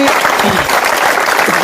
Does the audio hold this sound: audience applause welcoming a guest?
yes